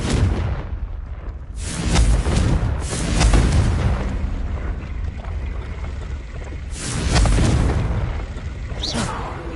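The Confringo blasting spell in Hogwarts Legacy goes off in several heavy explosive bursts with rumbling low booms, loud and close, separated by brief quieter stretches of crackling debris.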